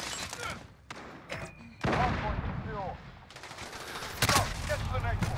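Video game gunfire crackles in quick bursts and single shots, loud and close, with someone talking over parts of the action.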